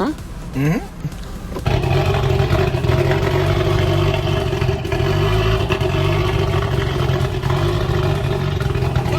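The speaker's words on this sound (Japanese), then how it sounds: "エンジン今初めてかかったんで、今入れたばかのエンジンなんで、これ初始動です。" A Toyota AE86 with a freshly installed 4A-GE engine starts for the first time. After a brief voice and cranking, it catches and settles into a loud, steady, close-up idle.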